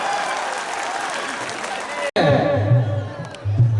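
A crowd applauds loudly for about two seconds at the Mithila Vibhuti Parva festival in Darbhanga, India, then it cuts abruptly to voices talking over a murmuring audience.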